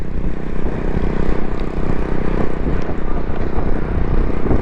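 A red bus pulls up along a busy street in the KDA Chowrangi area of Karachi, its engine a loud, steady rumble close by, mixed with constant traffic and motorbike noise.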